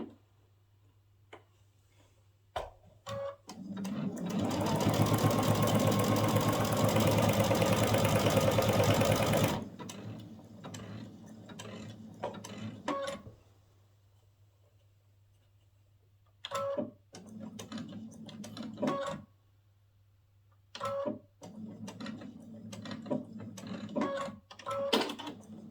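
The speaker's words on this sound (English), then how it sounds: "I just stitch all the way to the end of this, holding it in place" A sewing machine runs steadily for about five seconds while stitching quilt binding, close and loud, then gives several shorter bursts of stitching separated by clicks and pauses.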